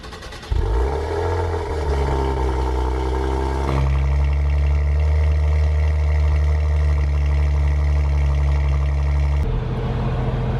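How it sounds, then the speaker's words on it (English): A Maserati Levante fires up from cold, a sharp starter catch followed by a loud, steady high idle with a rich layered engine drone that holds for several seconds before the pitch drops slightly near the end. "Here's a cold start on the Levante."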